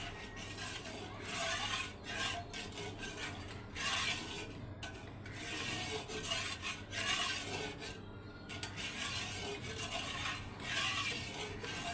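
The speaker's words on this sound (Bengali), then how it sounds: "আমি ঠান্ডা দুধের মধ্যেই গুঁড়ো দুধটা মিশিয়ে নিচ্ছি, ভালো মতো মিশিয়ে নিব।" Powdered milk is stirred into cold milk, giving faint, repeated scraping and rubbing strokes in bursts, close but quiet, with short pauses between rounds of stirring.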